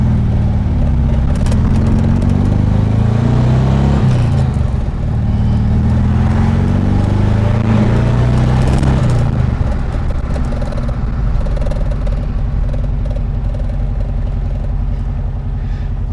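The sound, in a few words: supercharged 1600cc VW Karmann Ghia engine driving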